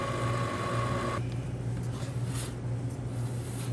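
A stand mixer whirs on low, blending flour into peanut butter Twix cheesecake batter, a steady close mechanical hum whose higher whine drops away after the first second.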